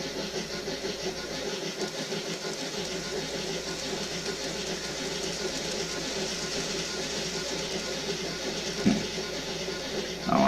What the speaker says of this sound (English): there's the Great Western train going round by the woods and into the tunnel